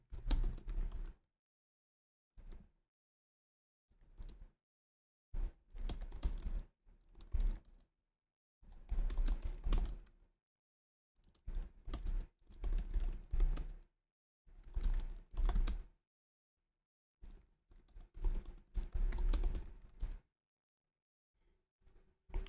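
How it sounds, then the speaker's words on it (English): Fingers type on a computer keyboard in bursts of quick, close clicking, stopping for short silent gaps between phrases over about twenty seconds, with no talking. "I'm typing it out for you guys."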